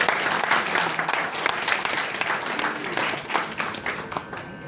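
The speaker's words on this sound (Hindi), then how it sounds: "इनका अभिनंदन तालियों से तो कर दें।" Sustained, dense applause from an audience welcoming the chief guest, a university vice-chancellor, at a press club media event, with no voices heard above it.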